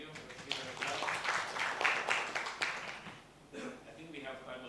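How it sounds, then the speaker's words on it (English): An audience at an additive-manufacturing conference gives a burst of clapping after a talk, moderately close and fading after a few seconds, with a voice speaking over and after it. "Let's give it a clap."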